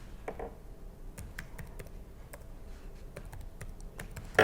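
A computer keyboard being typed on to enter a Metasploit console command: a run of quick, crisp key clicks in an irregular rhythm, close and clear, ending with a firmer keystroke.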